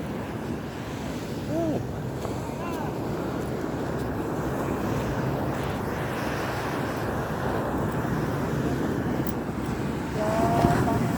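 Sea waves wash steadily against a shore where fishermen haul a boat up onto the beach, a constant roar with wind buffeting the microphone and a few faint calls in the distance.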